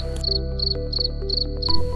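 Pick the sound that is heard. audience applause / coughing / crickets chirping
crickets chirping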